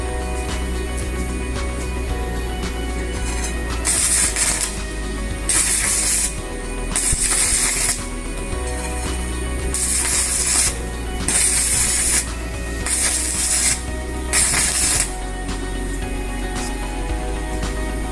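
Welding arc struck by the scratching method, bursts of loud crackling hiss repeating about every two seconds over a steady machine hum, close and without talk.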